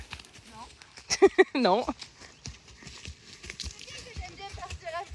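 A pony walks along a rough woodland trail, hooves clip-clopping in a loose rhythm under the voices of girls chatting and a child calling out.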